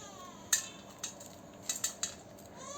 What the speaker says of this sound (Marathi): ह्या बिया आहेत ह्या काढून घेऊया आपण